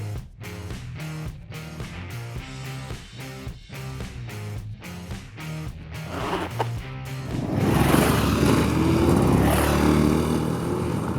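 Yamaha XT660R single-cylinder motorcycle riding forest trails in Sweden, engine droning with rhythmic pulsing under music, then a rougher, louder rush of engine and wind near the end.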